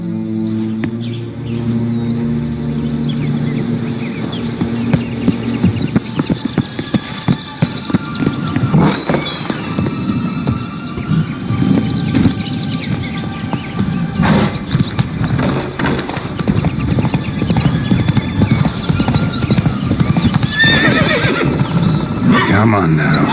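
Geralt's horse Roach in The Witcher 3 whinnies and snorts over an outdoor ambience of birds and insects, close and clear, while people talk and music plays throughout.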